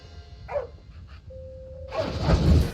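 In the Bolt video game for PS2, the dog hero charges his super bark: a thin electronic tone holds steady, then a loud, rough blast of barking bursts out and swells near the end.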